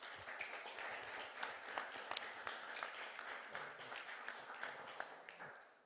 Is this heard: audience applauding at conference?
yes